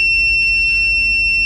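A multimeter set to continuity gives a steady, unbroken high-pitched beep while its probes touch the positive side of an MSI AMD HD 7970 graphics card, clear and alone with no talking.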